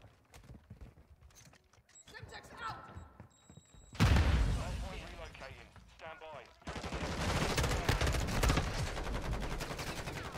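M16 rifle fire in the shooter game Modern Warfare 2, quiet scattered shots at first, then loud rapid bursts of automatic gunfire dominating the second half.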